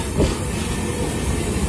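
A train rolls toward Raja Mandi station in Agra, a loud, continuous rumble of wheels and carriage noise close by, with a brief rattling swell near the start.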